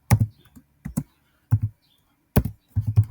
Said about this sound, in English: Let's first type